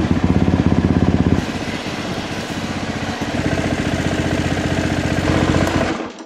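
A French race motorcycle engine warms up nearby, loud and rough with a rapid pulsing idle that drops after a blip and then holds a steady, slightly rising rumble.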